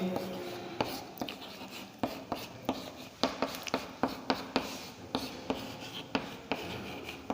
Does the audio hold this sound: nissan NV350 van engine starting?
no